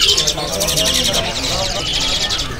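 Bright, rapid chirping from an adult white starling nearby at a bird market, repeated in quick bursts while a person talks over it.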